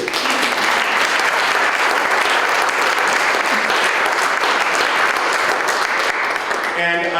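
A concert audience gives steady, dense applause after a performance, loud and sustained throughout, with a voice beginning to speak near the end.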